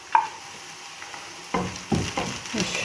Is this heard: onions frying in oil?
yes